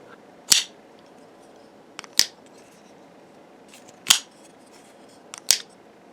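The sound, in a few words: Spyderco Para 3 LW folding knife blade opening and closing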